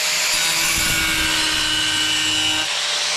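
An angle grinder cuts a hole in tile, giving a steady, loud, high whine with a gritty rasp throughout and a low rumble that drops away near the end.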